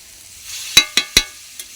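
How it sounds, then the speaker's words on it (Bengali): Tilapia pieces and white greens stems stir-fried in a pan: a soft steady sizzle with three sharp scraping stirs close together and a fainter fourth, no talking. "জল দিয়ে একটু কষিয়ে নেব, কষিয়ে তারপরে জল দিয়ে দেবো।"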